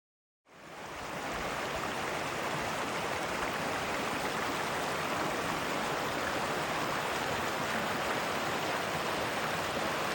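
Stream water rushes steadily after a brief silent start, a constant broadband wash that holds at an even level throughout.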